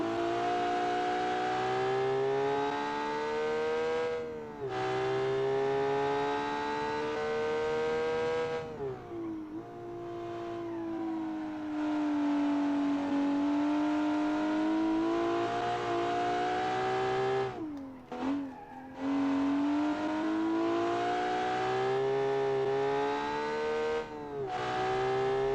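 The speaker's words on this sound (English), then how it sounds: "I don't know what V6 you're referring to there, but I think it sounds about as inline six as it can" Inline-six car engine in the BeamNG driving game revving and holding steady, a smooth harmonic drone that climbs and falls through gear changes, with brief dips and stutters, loud and close, no talking.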